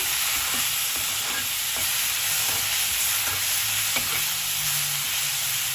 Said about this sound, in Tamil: தக்காளி சேர்க்குறேன். இதையும் சேர்த்து நல்லா வதக்குங்க.